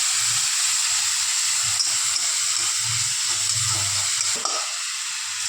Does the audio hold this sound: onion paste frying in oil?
yes